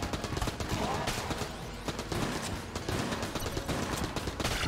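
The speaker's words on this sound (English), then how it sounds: "Well, that's an explosion." Explosions and rapid gunfire from the Exit the Gungeon video game form a dense, loud, continuous barrage of blasts and shots, with no break throughout.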